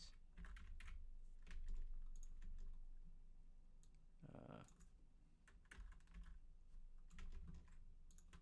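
Keys tapped on a computer keyboard while entering text, quiet close clicks in short uneven bursts with pauses and one brief scraping rustle.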